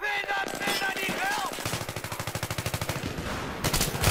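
Automatic weapon fire in Battlefield 3 multiplayer, a rapid rhythmic burst of machine-gun shots rattling near and loud, preceded by other game sounds and ending with a sharp blast.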